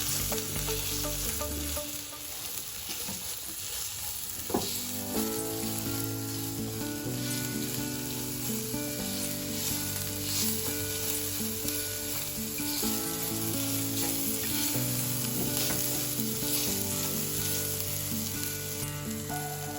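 Spice masala frying in a pan for stuffed capsicum filling, a continuous bright sizzle with occasional stirring scrapes, steady and close, heard under background music with no speech.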